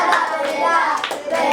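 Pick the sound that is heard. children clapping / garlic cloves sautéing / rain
children clapping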